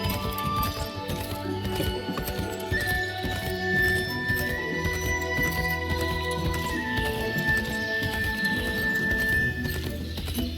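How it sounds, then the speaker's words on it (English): Hooves clop steadily as a horse is ridden in the Moonlight Blade Online video game, with occasional neighs under a continuous layer of game music and ambience. "and let the horse take us there."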